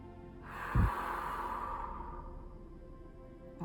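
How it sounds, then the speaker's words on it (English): A single long, deep belly breath exhaled through a rounded O-shaped mouth, breathy and airy, swelling after a brief intake and fading slowly over a few seconds, close and unaccompanied. "So here is that deep belly breath"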